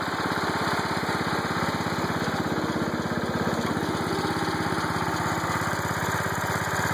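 Small engine of a John Deere 216 lawn tractor, running again after fuel-system repairs and smoking a little, gives a loud, steady, rapidly pulsing drone up close for several seconds with no talking.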